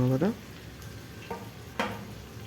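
Chicken liver and gizzard masala sizzles and is stirred in a pan with coriander leaves, giving a low frying hiss with a few scraping strokes, after a brief voice at the start.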